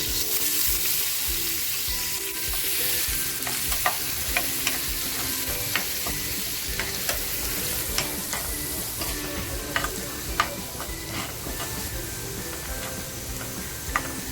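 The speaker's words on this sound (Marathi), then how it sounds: "तेल टाकते हिंग टाकते अगोदर कांदा जो बारीक कापून घेतला होता ना तो कांदा टाकते" Finely chopped onion fries in hot oil seasoned with asafoetida, making a steady, dense sizzle throughout, with occasional light clicks of stirring close by and no talking.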